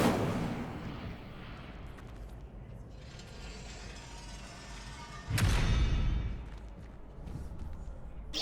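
Incendio fire spell cast in Hogwarts Legacy, a steady rumbling roar that bursts into a loud, close whoosh of flame midway before settling back to a lower crackling hiss.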